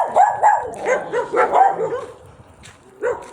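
Several dogs bark in repeated bursts outdoors while being walked by their owners on a street, loud and fairly near, with a short lull before a final bark.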